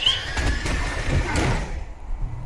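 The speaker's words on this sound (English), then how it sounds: "He opens the door." A truck door slides open with a loud scraping, grinding sweep that fades out after about two seconds, close and alone with no talk.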